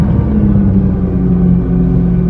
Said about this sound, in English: All right, so it's time to actually start the car.